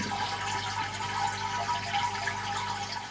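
Water and sand being siphoned out of a tropical fish tank make a steady, close rushing gurgle that runs continuously without pause, with no voices over it.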